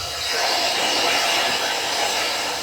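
A dog grooming blow dryer runs steadily and loudly close by, a constant broadband whooshing rush of air with no pauses for the whole stretch.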